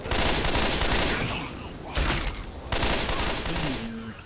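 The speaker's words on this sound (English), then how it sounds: "Hey, can you stop shooting those cans?" Repeated loud gunshots at cans in Left 4 Dead, coming in three dense bursts of rapid fire separated by short gaps.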